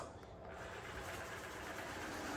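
A Light 'n' Easy automatic-emptying robot vacuum cleaner runs with a steady, faint whirring hum throughout.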